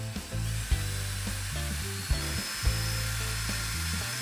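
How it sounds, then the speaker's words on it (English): A drill buffs rubbing compound into a scratch on a car, giving a steady, close, high-pitched whine over broad gritty friction noise with slight surges in pitch. "And then I'll start the drill and I'll buff this gently to start with."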